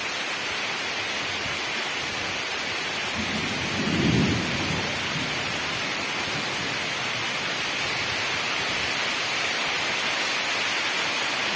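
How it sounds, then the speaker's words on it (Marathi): Steady heavy rain pours in Sawantwadi, Konkan, with a constant hiss, and a low rumble of thunder swells briefly partway through before fading back into the downpour. "पावसाने बॅटिंग चालू केलेली आहे"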